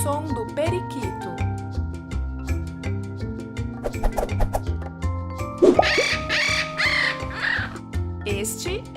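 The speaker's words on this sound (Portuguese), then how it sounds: "Este é o som do periquito" Chirpy parakeet calls sounding over a busy children's song with music and singing voices throughout, the bird squawks rising briefly near the middle and end.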